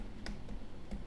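A computer keyboard is typed on in a few light, quiet keystrokes, with soft separate clicks spread over about a second against a low background hum.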